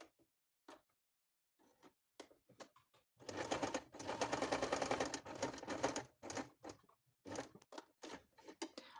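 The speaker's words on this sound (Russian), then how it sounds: "беру полоску ткани, прикладываю лицевую сторону с лицевой стороной квадрата и делаю здесь с краю строчку" A sewing machine stitches patchwork fabric strips, first in a few isolated ticks, then in a dense rapid run of needle strokes, then in short stop-start bursts, quiet and close with no talking.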